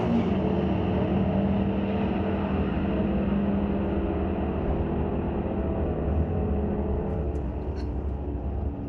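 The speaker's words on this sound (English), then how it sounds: "In that 440 powered Dart GTS. Big launch for the Nova in the tower lane." Drag strip launch of a 440-powered Dart GTS against a Nova at a raceway, loud engines roaring at a distance under a steady wash of noise.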